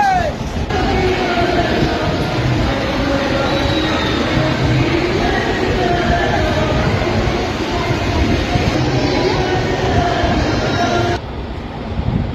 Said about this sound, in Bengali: এখন পালিয়ে যাচ্ছে ট্রেন।